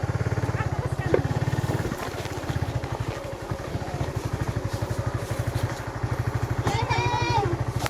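A motorcycle engine runs steadily with a low, pulsing throb while the rider crosses near Sorex Beach in Rizal, Palawan. Wind buffets the microphone, and people talk over the engine throughout.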